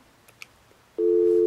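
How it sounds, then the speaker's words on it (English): A steady, loud desk phone secondary dial tone, heard during a call transfer, starts abruptly after a second of near silence with a couple of faint clicks. "secondary dial tone."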